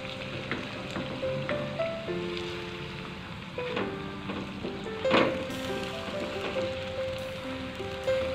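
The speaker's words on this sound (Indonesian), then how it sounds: "Sekarang kita goreng tahunya sampai warnanya kuning keemasan dan matang." Tofu fries in hot oil with a steady, dense sizzle and crackle, rising briefly in a louder spatter burst midway, with no speech.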